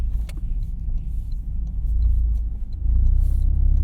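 A Toyota GR Corolla drives through snow, its low engine rumble steady and close, swelling louder toward the end, with faint clicks and no speech.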